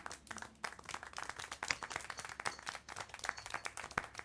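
Scattered hand claps in the video game Syberia: The World Before ring out in a rapid, uneven patter, like a small group applauding, fairly close and without talk.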